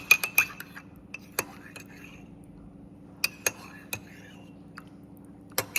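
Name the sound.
stirring milk into coffee in a cup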